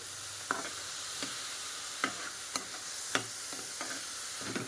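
Cabbage and capsicum being mixed with salt and chili powder in a hot pan, soft sizzling under several distinct knocks and scrapes of a spoon at irregular intervals.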